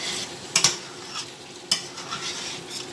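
Spices for a chicken korma with ground almonds and raisins hit a hot pan and fry with a steady soft sizzle, while a spoon scrapes and clinks against the pan twice, sharp and close.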